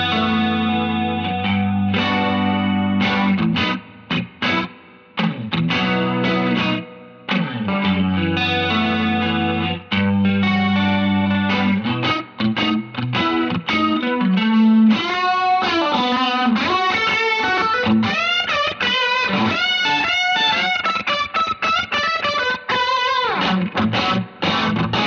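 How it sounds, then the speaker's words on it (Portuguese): Electric guitar played through a Rotary Leslie speaker simulator in Bias FX 2, loud and alone, with sustained chords and single-note lines swirling and shimmering through the rotating-speaker effect over about 25 seconds. "vou pegar aqui para vocês o Rotary, que é um simulador de caixas Leslie"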